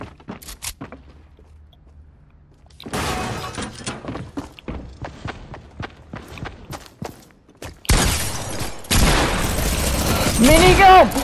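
A minigun fires in a video game, with scattered shots and thumps early on building to a loud sustained burst of rapid gunfire near the end.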